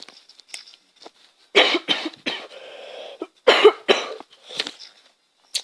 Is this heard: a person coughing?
yes